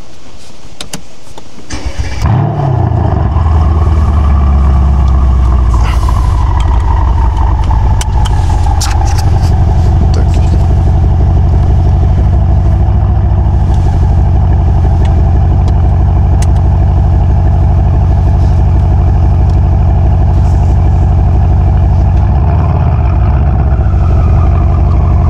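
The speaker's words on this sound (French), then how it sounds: "je vais carrément coller le micro à l'échappement" A Mercedes-Benz S63 AMG coupé starts up close to its exhaust with a sharp blip, then settles into a deep, loud, rumbling idle that swells slightly near the end before a road test.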